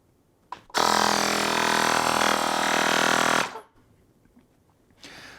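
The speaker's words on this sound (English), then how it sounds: "I'm gonna switch over to the air pump so you can kind of see how that works" An electric air pump pressurizes a Maespresso Pro 58 espresso maker, a loud steady buzzing drone running about three seconds after a short click, then stopping abruptly, with a brief later burst.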